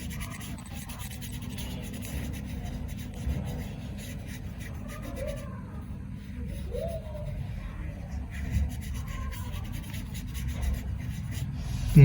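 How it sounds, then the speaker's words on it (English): A triangle drawn by hand on paper, a continuous soft rubbing and scratching stroke sound, close, over a low steady background. "Kids write a triangle."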